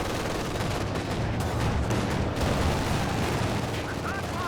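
Sustained, dense gunfire and battle noise from a quad half-track machine gun in the Company of Heroes 2 strategy game, rolling steadily throughout at a loud, constant level.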